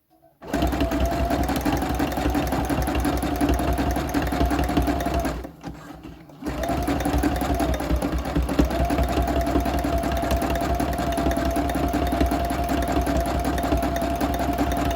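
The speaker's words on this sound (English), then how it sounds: "I'm going to try and do a bit of cross stitch, zigzag" A sewing machine runs a zigzag cross stitch along fabric edges, whirring loudly and steadily up close, stopping once for about a second before carrying on.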